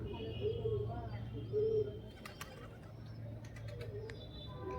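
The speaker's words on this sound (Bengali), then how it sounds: "ওই দেখো বন্ধুরা পায়রা" Pigeons cooing at the 108 Shiva temples in Kalna, soft repeated coos close by with a few chirps and light clicks later, a quiet voice faintly underneath.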